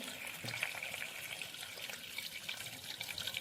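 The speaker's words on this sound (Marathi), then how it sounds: "याच्यामध्ये पाणी घालून भिजत घालायचं आहे" Water poured into a container of jaggery to soak it, a faint, steady trickling and splashing close by with no speech.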